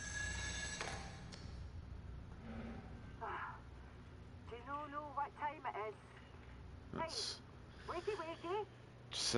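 A telephone rings in a quiet, eerie scene of the video game Still Wakes the Deep, with faint ringing bursts over low ambient rumble and a few brief distant voices.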